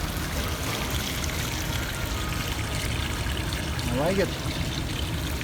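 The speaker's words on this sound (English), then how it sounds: "Upgraded Bosch. Well, this thing is pumping pretty hard." An upgraded Bosch intercooler fluid pump on a supercharged 5.7L Toyota Tundra pushes fluid in a steady trickling, pouring flow, with someone briefly speaking over it.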